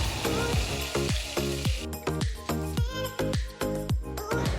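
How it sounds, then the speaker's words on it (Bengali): Tangra fish fry in hot oil with a bright crackling sizzle, under a regular, rhythmic thumping with tonal pulses that continues throughout. "তো ট্যাংরা মাছ ভাজা অনেকটা হয়ে এসেছে, তো আরেকটু নাড়াচাড়া করে আমি নামিয়ে নেব।"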